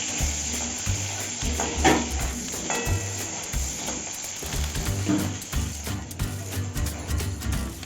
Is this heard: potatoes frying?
yes